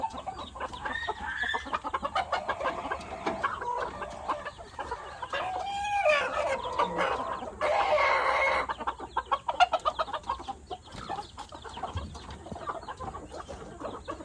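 White American chickens in a bamboo cage clucking and squawking up close, a busy overlapping chorus of calls with a louder burst of cackling in the middle.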